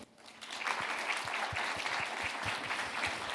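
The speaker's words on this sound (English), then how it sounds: "Let's give them a big round of applause." An audience at an international conference session breaks into applause, the clapping swelling quickly from near silence into a dense, sustained patter of many hands.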